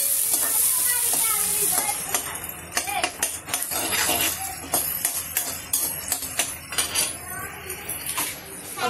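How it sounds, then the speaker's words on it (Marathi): Onions frying in a pan until reddish for a spicy rava upama cake, a hissing sizzle with frequent clinks and scrapes of a metal spoon against the pan, close and fairly loud, with a little voice faintly present. "कांदा थोडा लालसर होईपर्यंत भाजायचा."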